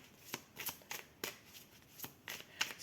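Oracle cards shuffled by hand during a card reading, a quiet series of soft papery riffles and flicks at an irregular rhythm, close and alone with no talk.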